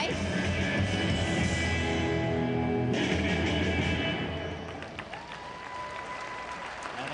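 An arena crowd at a women's college gymnastics championship applauds after a tumbling floor routine, sustained loud clapping that thins and softens toward the end.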